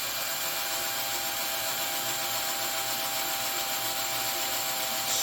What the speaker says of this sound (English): And I'm going to drill this right into the guitar